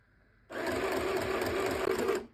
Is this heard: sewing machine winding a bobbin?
yes